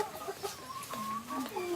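Native Thai village chickens cluck softly in a series of short, rising and falling calls, faint and somewhat distant, with no one talking.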